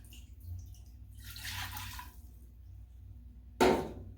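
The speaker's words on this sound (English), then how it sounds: "So you're gonna add about a cup of water into the bottom." Roughly a cup of water is poured into the bottom of an Instant Pot, giving a soft, close splashing pour that rises and fades, then ends in a brief sharp clatter.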